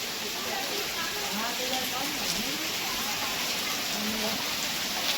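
Heavy, relentless rain pours down in a village during flood-like downpour, a dense constant hiss of drops on surfaces, with faint voices talking beneath it.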